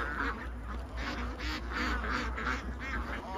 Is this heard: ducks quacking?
yes